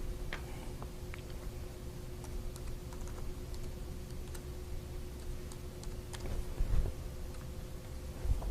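Login credentials are typed on a computer keyboard as a steady run of light, clicky keystrokes at close range, with irregular rhythm over a faint background hum and no speech.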